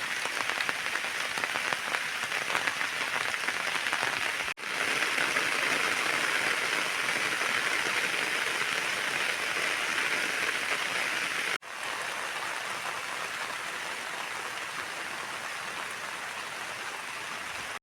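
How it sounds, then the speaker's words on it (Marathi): Steady rain falls across a cashew orchard in the Konkan countryside, a dense, even hiss of drops on leaves and ground that holds at constant loudness throughout, with two brief dips and no voices. "पाऊस पण लागतो आहे"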